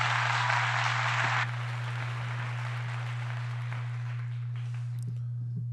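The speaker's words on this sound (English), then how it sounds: "Round of applause for that." Audience applause right after a stage announcement, a dense wash of clapping for about a second and a half that then cuts off abruptly, leaving faint room tone with a steady low hum underneath.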